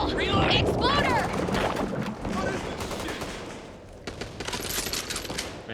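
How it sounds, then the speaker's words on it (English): Rapid automatic gunfire in the zombie shooter Back 4 Blood, loud and close in dense bursts, joined by creature screeches early and fading into scattered shots and game noise, with voices talking over it. "You bloody shot me!"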